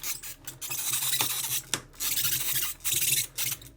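Waist joint of a Newage Omega Supreme third-party Transformers toy turning, giving a dry, scratchy grinding rasp in several close, uneven strokes with brief pauses.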